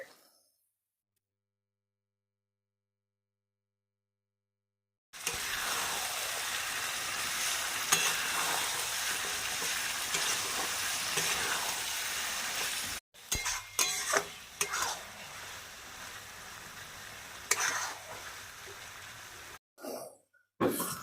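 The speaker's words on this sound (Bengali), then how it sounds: "এবারে আমি ম্যারিনেট করা মাংসটা দিয়ে দিচ্ছে" Marinated goat mutton hits a pan of fried spice paste in a Bengali-style curry, and a loud, close, steady sizzle follows. It begins after about five seconds of silence and is later broken by short gaps and stirring scrapes.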